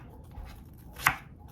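A knife makes one crisp, sharp cut through peeled apples on a quiet countertop, briefly standing out against faint background noise.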